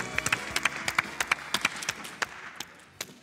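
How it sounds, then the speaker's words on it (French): A few people clapping in an audience, sparse distinct hand claps in an uneven rhythm that thin out toward the end, fairly close and otherwise quiet. "On a le droit d'applaudir quand même."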